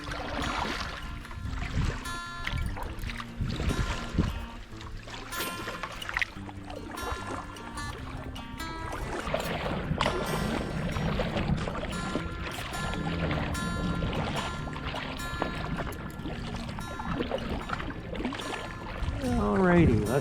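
A packed canoe moves off through water in fog and a light wind, with paddle swishes, drips and gurgling water running steadily throughout, close, while a voice talks over parts of it.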